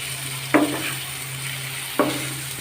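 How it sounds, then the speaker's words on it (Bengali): Ginger and green chillies frying in a pan with onions, a low sizzle under two sharp stirring scrapes of a spoon against the pan, no talk. "আদাগুলো একসাথে বেজে নিব, কাঁচা লঙ্কা হালকা করে বেজে নিব"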